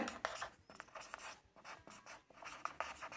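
Chalk or marker scratching on a board during a Bengali grammar lesson, a rapid series of short, faint strokes with brief pauses between them, heard alone in a quiet room.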